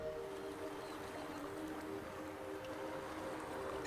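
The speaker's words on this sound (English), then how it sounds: "Summer boat traffic continues to increase each year, and the dolphins decrease." Boat traffic on the water off Sardinia, a continuous low engine drone with steady tonal hum and wash, distant and unbroken, no voices.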